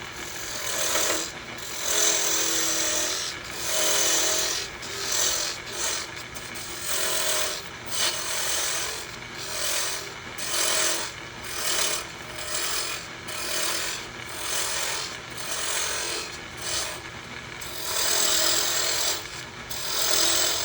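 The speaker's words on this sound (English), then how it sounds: "now I usually take a bunch of meat out of this with the cutoff tool and then shape it with the carbide circle" A wooden kendama cup being carved on a lathe with a cutoff tool and carbide circle, a continuous scraping, rasping cut that swells and eases in repeated passes, close and alone without talk.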